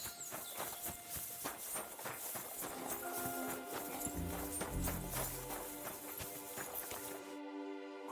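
A horse's hooves clip-clop at a steady walking rhythm in the medieval game Kingdom Come: Deliverance II, close and clear for several seconds over soft ambient game music, then cutting off abruptly.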